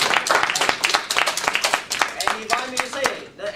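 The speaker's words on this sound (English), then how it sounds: "Whenever I am introduced, I applaud myself." An international emcee performance gets a short burst of audience clapping, close and uneven, with a voice running over it.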